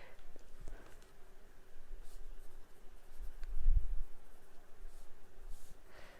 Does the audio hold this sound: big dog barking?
no